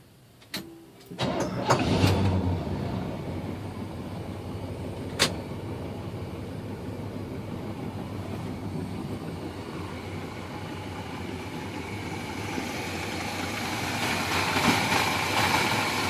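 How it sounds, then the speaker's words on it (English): A 1976 Chevrolet C-10 short-bed pickup engine cranks and catches, then settles into a steady, even idle that runs close and continuous with no talking. "Motor runs really good in his truck."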